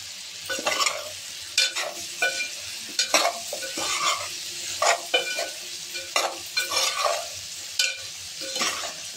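Chopped ingredients are stirred into a sizzling spice masala in a pan for an Agri Koli style prawn curry. Rhythmic scraping strokes of the spoon repeat over a constant crackling fry.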